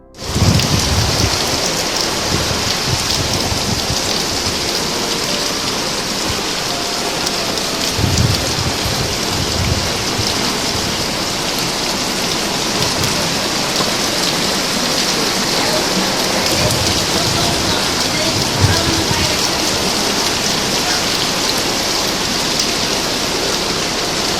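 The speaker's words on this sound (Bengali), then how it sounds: "এতক্ষণে বৃষ্টিটা বেশ জোরে জোরে পড়তে আরম্ভ করেছে" Heavy rain pours down steadily for the whole stretch, a dense, loud, even hiss of drops with no voices and only slight swells in intensity.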